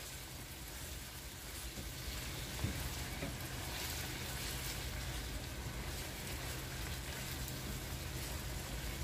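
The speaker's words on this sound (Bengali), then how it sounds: "এগুলোকে খুব ভালো করে ভেজে নিব যাতে কাঁচা গন্ধগুলো চলে যায়।" Grated ginger and garlic fry in hot oil in a pan, a steady, even sizzle that hisses and crackles continuously at a constant level, close and fairly quiet, with no talking.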